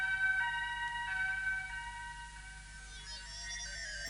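An ambulance siren wails steadily in a cartoon soundtrack, a sustained tonal siren at moderate distance that slowly shifts in pitch.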